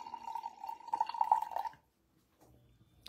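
Coffee poured into a cup at home, a steady close liquid stream for nearly two seconds that stops abruptly, followed by a short quiet and faint handling sounds.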